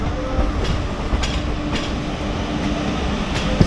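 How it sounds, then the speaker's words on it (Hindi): Haridwar–Delhi–Saharanpur unreserved express train running, heard from inside as a steady rumbling roar with periodic clickety-clack wheel beats over rail joints, continuous and fairly loud throughout. "हरिद्वार दिल्ली सहारनपुर अनारक्षित एक्सप्रेस।"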